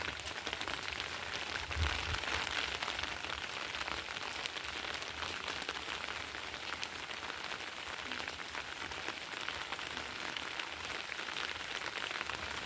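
Steady rain falls on a garden flower bed, a dense, even hiss of drops on leaves and surfaces that continues unbroken and fairly soft throughout.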